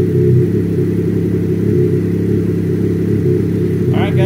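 A Ski-Doo Renegade 900 Ace Turbo snowmobile engine idles loud and close after a plug change, a steady low throbbing hum with no revving.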